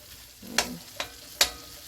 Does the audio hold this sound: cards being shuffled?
no